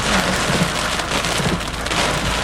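Heavy rain pours during a Florida thunderstorm, big drops pattering densely and loudly on surfaces in a steady, close downpour with no voices.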